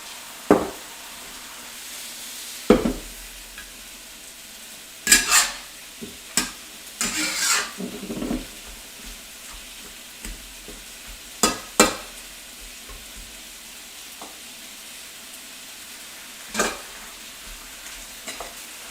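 Bok choy hits a hot pan for a stir-fry alongside Japanese short ribs. A steady background sizzle is broken by sharp, scattered clanks and scrapes of a utensil against the pan, with no talking.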